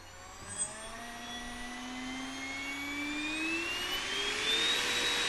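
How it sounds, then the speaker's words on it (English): An RC helicopter's electric motor on a Castle controller whines steadily during throttle calibration, a rising tonal hum with high harmonics that slowly climbs in pitch and grows a little louder. "Okay, now I'm going to reduce that value until the motor stops."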